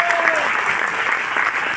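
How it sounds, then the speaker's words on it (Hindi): Audience applause at a gathering honouring a cylinder seller, dense and steady clapping throughout with a brief voice at the start. "तो तालियां बजाओ इनके लिए।"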